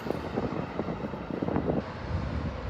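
An airliner's engines roar in a low, fairly loud drone behind the runway at Raleigh-Durham airport during a possible go-around, steady with wind buffeting the microphone.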